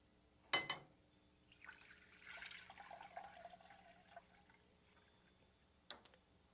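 Cold water poured into a cooking pot over fresh ginger root, a brief splashing pour with a sharp knock at the start and a soft clink near the end, quiet and close, no voices.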